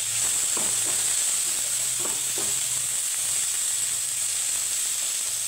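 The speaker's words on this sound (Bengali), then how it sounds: "তো এখানে হালকা ভাজা হয়ে গেছে আমার।" Cauliflower stalks frying lightly in a pan, giving a steady close sizzle with a high hiss and a few soft stirring taps, with no voices.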